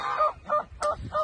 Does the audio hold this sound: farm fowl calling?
yes